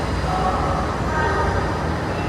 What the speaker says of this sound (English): Right, our Scarborough train is coming in.